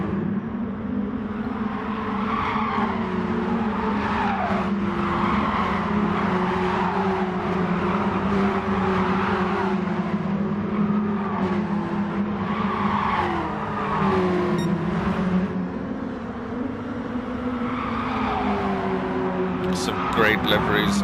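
Race cars in a sim racing video game keep up a continuous engine drone, with tires squealing and skidding throughout. The sound stays steady and loud across the whole stretch, with no speech.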